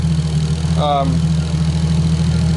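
A Nissan Skyline R33 GTST engine idles steadily with a low, constant rumble throughout, joined by a brief whining sweep partway through.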